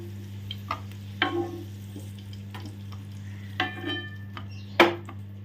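Potatoes fry in oil in a pan, giving a soft steady sizzle broken by several scraping stirs and light metallic clinks of a utensil against the pan, close by, with a low hum underneath.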